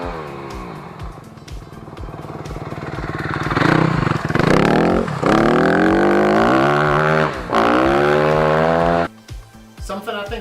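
Motocross bike fitted with a Rekluse automatic clutch accelerating hard, its engine note climbing in pitch through repeated revving pulls, loud and close, then dropping off abruptly near the end.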